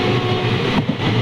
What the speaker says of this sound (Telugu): ఇప్పుడు మనం ఎక్కబోయే ట్రైన్ అయితే ఇది.